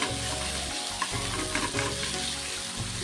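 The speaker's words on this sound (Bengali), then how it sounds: "ওর জন্য ফ্রাই করছি।" Potatoes and onion fritters frying in oil at night, a dense continuous sizzle and crackle close up, with faint stirring scrapes and no talk.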